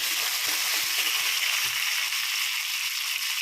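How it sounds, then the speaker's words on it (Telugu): Chinna odiyalu, small fritters, fry in oil with a steady, close bright hiss and faint crackling throughout, and no one speaks. "చిన్నొడియాలు వేపుకుంటున్నానండి ఆయిల్లోనే"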